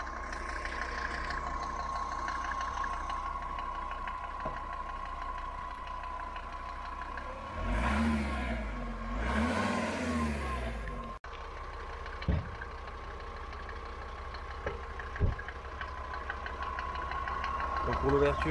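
A Mercedes 250D W124 five-cylinder diesel engine with 350,000 km idles with a steady, knocking chug throughout, rising in a brief rev midway, with a person talking over it.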